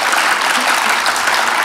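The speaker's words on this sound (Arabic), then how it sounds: "تصفيق أخر على سليم" A studio audience on a television entertainment show gives a sustained round of applause, broad and even, with continuous clapping from many hands and nothing else rising above it.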